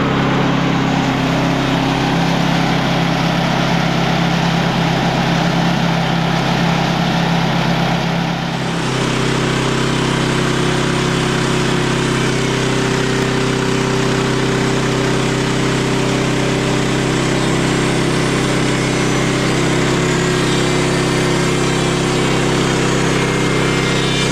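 A sawmill engine runs loud and steady close by while the blade mills, the drone shifting in pitch midway as the cut loads it, continuous with no talk.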